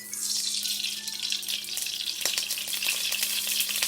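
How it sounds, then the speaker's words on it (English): Hot cooking oil in a very hot skillet, the start of a shrimp and pineapple stir fry, sizzles and crackles steadily and close, with sharp pops scattered through it. "So when oil is popping like that"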